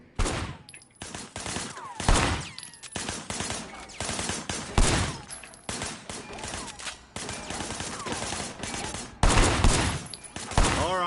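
Repeated gunfire in the video game Sleeping Dogs, sharp shots in irregular bursts and volleys, loud and close, with a voice occasionally heard between them.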